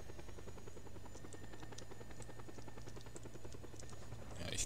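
A helicopter in the video game Just Cause 2 gives a steady, rapid rotor chop with a low engine drone. It stays quiet and even throughout, with no talk.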